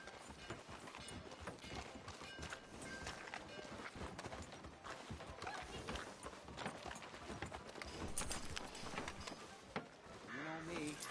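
Horse hooves clip-clop in the video game Red Dead Redemption 2, a steady run of hoofbeats over dense background game noise and music, with a character's voice talking over them.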